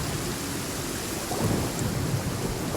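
Steady heavy rain hisses through a Genshin Impact thunderstorm, with a low rumble of thunder swelling up partway through and rolling on under the downpour.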